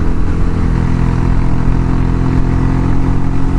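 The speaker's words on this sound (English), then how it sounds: "hopefully it's picking up this lovely noise that's ringing in my ears of the exhaust." A motorcycle exhaust roars continuously and loudly up close, a steady, rough engine drone held throughout with no talking over it.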